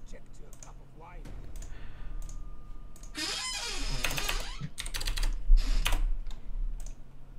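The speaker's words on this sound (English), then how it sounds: "It just sounds annoying because I got my keyboard going ballistic." Rapid, busy keyboard typing with dense clicking bursts at close range, hammered out during a Total War: Attila co-op campaign game session, with talk faintly underneath.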